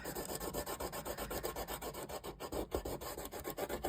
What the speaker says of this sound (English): because we're dry, we can rub out this masking fluid,